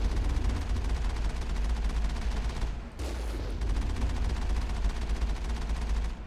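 Rapid automatic gunfire from turrets in the PC game Mass Effect, a dense, loud stream of shots that drops out for a moment in the middle and then resumes, with no talk over it.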